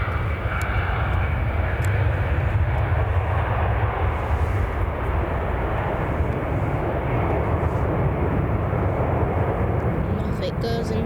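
Airliner rotating and climbing away on takeoff at Manchester Airport, a loud, close, sustained engine roar with heavy low rumble, steady throughout, under light background voices.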